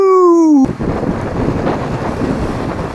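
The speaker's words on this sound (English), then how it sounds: "It's a windy day today," Wind blowing at a lakeside cove among big boulders, a loud low rumbling roar of gusts buffeting the microphone that begins abruptly after a brief tonal sound and continues steadily, with no talking.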